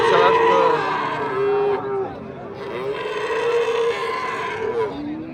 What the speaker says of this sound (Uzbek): buzoqchalar